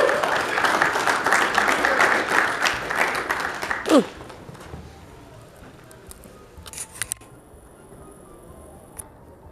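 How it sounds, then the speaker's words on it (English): A crowd applauds for about four seconds, then the clapping stops abruptly, leaving quiet room noise and a few small clicks. "Let's give them a round of applause."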